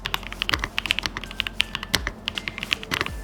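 Rapid typing on a Mode Sonnet custom mechanical keyboard: crisp, close key clacks in an uneven, quick rhythm, with a deeper thock from occasional heavier keystrokes, and no voices.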